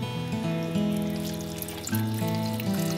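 Stock is poured into a pot of broccoli soup that already holds potatoes, giving a steady, close liquid pour with a faint trickle that lasts for several seconds without talk.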